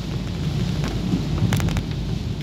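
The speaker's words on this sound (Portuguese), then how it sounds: "A chuva tá forte" Heavy rain pours steadily at night on a street in Maceió, with a low rumble of thunder under the dense hiss.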